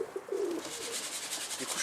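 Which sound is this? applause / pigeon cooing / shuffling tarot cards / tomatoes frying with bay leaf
pigeon cooing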